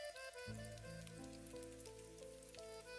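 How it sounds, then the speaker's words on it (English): Steady rain falls on a Paris night, a soft, even patter of drops on surfaces, faint and continuous, with a sustained musical tone underneath and no talking. "A real Paris rain."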